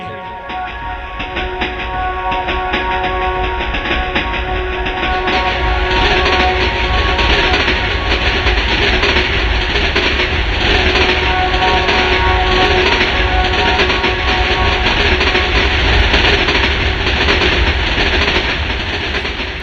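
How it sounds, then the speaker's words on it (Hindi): A train rumbles steadily along the tracks as it arrives, loud and close, with a continuous clattering roar and a faint high whine, no voices. "इतने में हॉर्न देते हुए वहां ट्रेन आ गई।"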